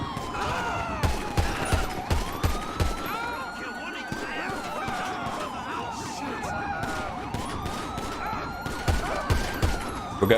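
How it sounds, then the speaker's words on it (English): Gunfire in GTA 5 with the LSPDFR police mod, a shootout at Del Perro Pier: repeated sharp shots and bursts over siren wails and dense game noise, with people talking throughout. "We got shots from behind us as well."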